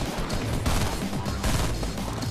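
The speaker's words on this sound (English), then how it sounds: "Somebody's trying to shoot me." Dense, continuous gunfire from the Fortnite Battle Royale video game, loud and close, with rapid overlapping shots forming a steady barrage and no talk over it.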